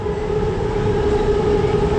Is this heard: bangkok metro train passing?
yes